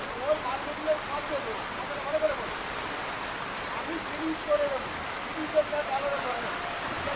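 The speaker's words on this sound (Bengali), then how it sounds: "বৃষ্টিটা কিভাবে হচ্ছে দেখুন" Steady rain falling outdoors under dark clouds in Kakdwip, a soft continuous hiss with a few faint chirps over it.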